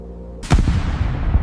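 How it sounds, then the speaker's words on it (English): A cannon fires from a fort with one loud, sudden boom that rolls on into a rumbling echo. "Then the thunder rolled, Anada, a cannon from the fort, announcing the Empire's arrival."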